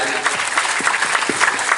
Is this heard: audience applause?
yes